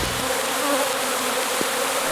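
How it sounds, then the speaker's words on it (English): Honeybees buzz steadily in a swarm, a continuous close droning hum that fills the whole stretch without pause or talk. "While many people are afraid of the honeybee, Adrian Perez"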